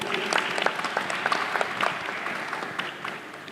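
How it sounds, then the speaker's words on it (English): Applause from an audience for the panelists at an e-commerce trustmarks event, with crisp claps that swell loud early and then taper off. "give a round of applause to our panelists here"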